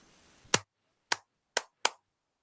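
Four sharp, crisp hand claps in an otherwise quiet room: one, a pause, then three more in quicker succession, close and distinct.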